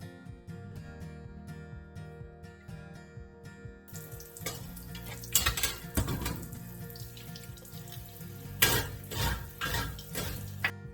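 A stainless steel farm sink is scrubbed with a brush and Barkeeper's Friend: tap water runs first with faint clinks, then rough bristle scrubbing bursts in uneven strokes over the wet metal basin, close and moderately loud.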